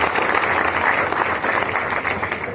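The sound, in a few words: audience applause welcoming companies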